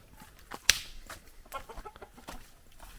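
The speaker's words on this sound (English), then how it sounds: "rooster." A rooster and chickens cluck on a countryside farm in the Dominican Republic. Close, scattered clucks and one sharp squawk stand out over a quiet outdoor background.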